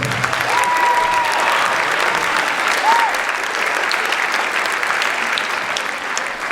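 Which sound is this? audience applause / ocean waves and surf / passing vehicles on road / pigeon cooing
audience applause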